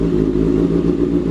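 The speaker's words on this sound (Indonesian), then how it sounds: "suara knalpot customan ya." A 2011 Kawasaki ZX-6R sport motorcycle fitted with a custom free-flow street exhaust idles and revs up close, a loud, deep, throbbing engine drone held steady throughout.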